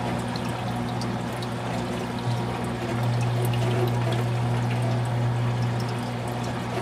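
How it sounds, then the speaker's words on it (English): Water pours steadily into an aquarium phosphate reactor beneath a constant low mechanical hum, a continuous rushing trickle with no voices. "I will let a little bit of water flow in there"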